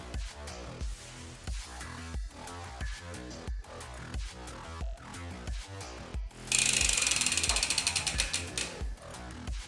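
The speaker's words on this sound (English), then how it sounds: "I like to go through the gears just to make sure that every gear got some oil in it" An e-bike rear wheel spins while the gears are shifted through, giving close, rhythmic freewheel ratcheting that turns into a louder, brighter burst of fast clicking near the end.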